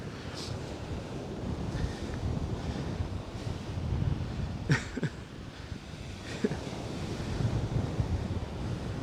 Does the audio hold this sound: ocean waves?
yes